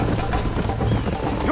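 A horse gallops at full pace in the Red Dead Redemption video game, its steady clip-clop of hooves loud and continuous while a rider's voice urges it on.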